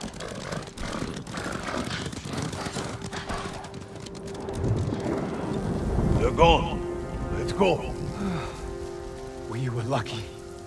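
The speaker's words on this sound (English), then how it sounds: "Horses!" Hooves clatter and horses neigh in a busy outdoor scene in the video game Ghost of Tsushima, with rain-like noise underneath and rising whinnies near the end.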